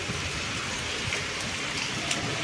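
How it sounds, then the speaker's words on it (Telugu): Steady rain falls on a cool, overcast morning among green trees, a dense, even hiss of drops on surfaces that continues unbroken throughout, with no voices. "ఈ డే మొత్తం కొట్టేటట్టే ఉంది వర్షం."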